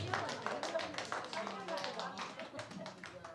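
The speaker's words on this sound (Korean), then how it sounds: "자, 박수 하겠습니다." Congregation clapping during a church sermon as two teachers come forward, a quick, fairly even patter of hands, faint and somewhat distant, with some speech mixed in.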